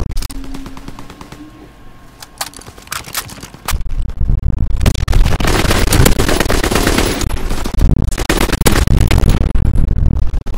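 Sustained automatic gunfire in a Call of Duty WW2 multiplayer match, starting sparse and then erupting into dense, loud, continuous bursts of rapid shots that dominate the scene with little talk.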